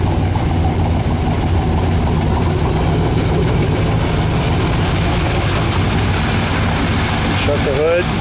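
A 1966 Trophy Blue 427 V8 rated at 425 hp idles with a loping, uneven beat, loud and close and steady throughout, with no voices over it.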